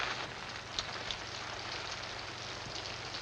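Steady rain falls on city streets as a constant soft hiss and patter, with a few slightly louder drops, even and unbroken throughout, at moderate distance.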